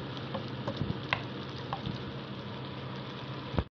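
Lechon lumpia egg rolls deep frying in a pan of hot oil, a steady dense sizzle with a few crackling pops and stirring clicks, close and continuous with no talking.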